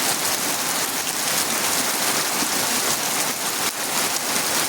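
Steady heavy rain pours down on Gobindapur village in Feni, Bangladesh, with a dense, continuous hiss, constant and close throughout, with no voices.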